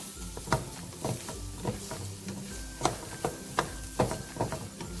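A utensil scrapes the bottom of a non-stick pan of corned beef hash frying in olive oil, repeated rhythmic scrapes and taps over a steady close sizzle, with no talking.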